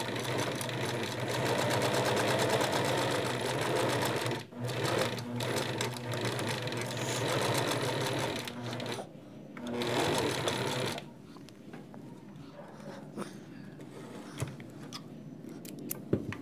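A sewing machine topstitches along fabric with a steady, loud mechanical whir. It breaks briefly twice, then runs on more quietly in the final stretch.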